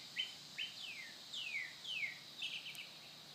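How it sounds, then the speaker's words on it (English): Birds chirp by an outdoor swimming pool, giving a series of about seven quick, clear, descending tweets spaced through a quiet scene, moderately near and fairly soft. "Listen to the birds."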